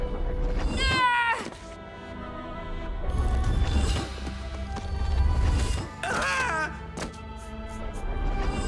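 A cartoon kitten meows in short, rising cries at two moments, set against a busy animated-series soundtrack with a low rumbling music bed throughout.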